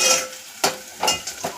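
Onions browning in a pan for a drumstick curry give a steady frying hiss, broken by three clear stirring scrapes near the end; close, moderately loud, no voices.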